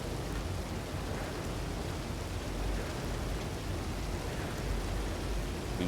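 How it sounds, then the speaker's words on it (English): Steady rain falls in an outdoor scene of the Red Dead WildRP game world, a dense, even hiss of drops that holds at a constant level throughout with no voices or other distinct sounds. "not only is it raining now"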